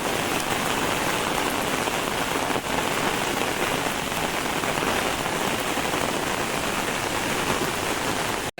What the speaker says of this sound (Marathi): कोकणातील पहिला पावसाळा जोरात पावसात सुरुवात